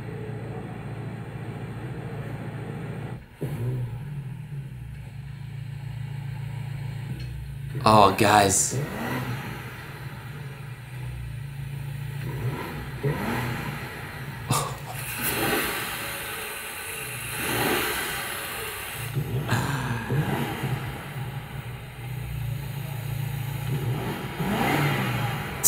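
A 2025 BMW M5 engine revs in short swelling bursts between steadier running, with people talking over it throughout.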